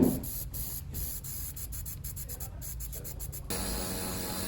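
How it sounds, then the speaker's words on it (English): Dark gray spray paint goes onto an end table in a series of short hissing bursts with brief gaps. A longer continuous spray follows near the end, with no talking. "Paint it with some dark gray paint"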